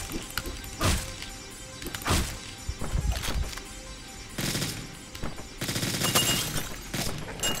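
Gunfire bursts and impacts in the video game Hotline Miami 2, a series of sharp cracks, crashes and rapid volleys scattered over several seconds against a busy game soundtrack.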